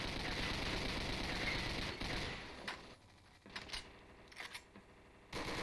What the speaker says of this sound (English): Look at all those bullets, it looks like a minigun